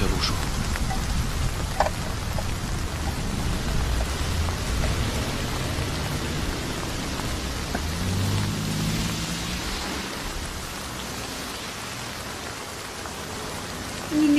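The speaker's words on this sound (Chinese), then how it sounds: "这雨下这么大" Heavy rain pours down steadily as a dense, continuous hiss that fills the scene evenly for the whole stretch, loud and close, with no voices over it.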